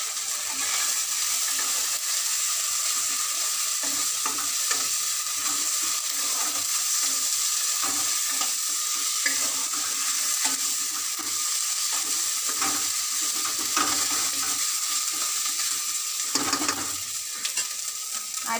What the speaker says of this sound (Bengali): তেল ছিটকাচ্ছে